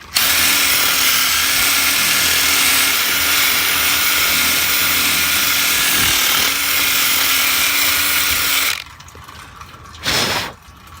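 Power drill running in reverse in a hole in a brick wall, clearing out plastic residue: a loud, steady high whine for about nine seconds, then it stops, followed by one short final burst.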